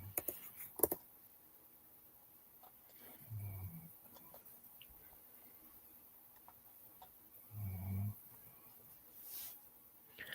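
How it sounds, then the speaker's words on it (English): An old Labrador snores faintly in the background, two slow, low rumbling breaths several seconds apart, under light clicks and a quiet line. "I hear your dog snoring."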